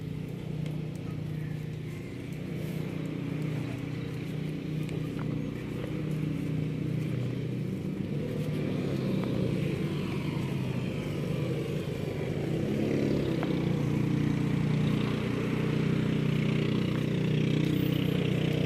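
A yacht's engine runs steadily at low rumble, a continuous droning hum with mild fluctuations that grows slightly louder toward the end, heard close by without talk.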